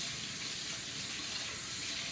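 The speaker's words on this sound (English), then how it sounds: "I'm going to wash my hands real quick" Cold tap water runs steadily from a kitchen faucet while hands are washed, a continuous hiss filling the clip at close range with no voices.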